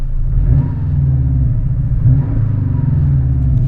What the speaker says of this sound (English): Quiets down. Still very throaty.